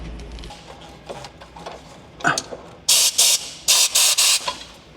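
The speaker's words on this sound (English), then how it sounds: "I got this air compressor here" An air compressor blows air into the engine bay of a Porsche 911 Turbo S, with rapid loud bursts of hiss in close succession after some quieter handling noises and a brief clunk, no voices.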